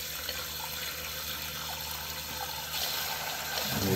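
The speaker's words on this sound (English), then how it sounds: "Turning on the water and just watching my little bit of air. It'll splutter" Water runs through the fill valve into a Toto Drake II toilet tank, a steady close rushing hiss that swells slightly near the end.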